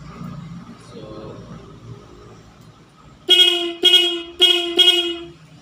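A loud dual motorcycle horn blasts four times in quick succession with a bright, doubled tone, after a stretch of quieter background noise and rumble.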